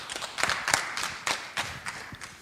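An audience claps at a conference in Berlin, a thin, uneven scatter of separate claps from a modest crowd, fairly close, with no voices over it.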